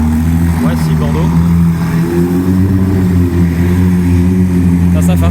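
A supercar engine, among a group including a Lamborghini Huracán STO, roars loudly and steadily up close, a deep throbbing growl that holds throughout with slight swells in pitch.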